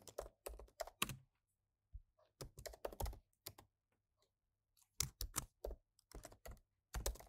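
Computer keyboard keys clatter in quick bursts while a name is typed into a web form, several short runs of keystrokes separated by brief pauses, close and fairly quiet.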